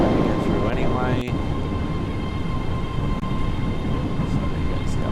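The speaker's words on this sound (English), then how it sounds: "here comes the other train next to me" A second train in the Train Sim World simulator rolls past alongside, a loud continuous rumble and rush of wheels with a brief horn-like tone near the start.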